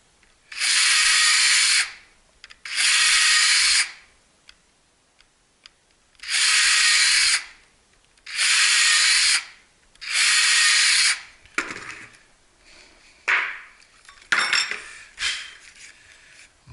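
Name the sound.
power drill drilling holes in kydex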